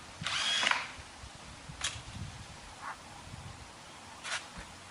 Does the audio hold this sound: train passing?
no